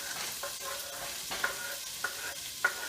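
Six cloves of chopped garlic frying in oil in a pot, a steady close sizzle with a few brief stirring scrapes and clicks, no talking.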